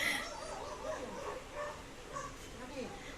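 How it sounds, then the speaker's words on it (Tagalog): Several dogs whimper and yip faintly at a muddy home as feeding time approaches, their soft, whiny cries scattered through a quiet background. "Nararamdaman na ng ibang aso na magpapakain si Fernan."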